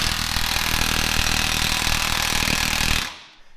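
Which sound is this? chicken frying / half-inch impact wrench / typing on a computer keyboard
half-inch impact wrench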